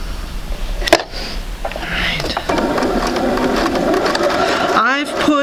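A sewing machine stitches a quarter-inch seam across half square triangle quilt pieces, a steady close mechanical whir that starts after a short pause, heard under a person talking.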